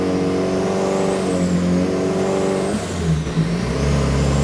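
A car on a dyno, engine droning and revving through rising and falling pitch sweeps, loud and close, with no talking.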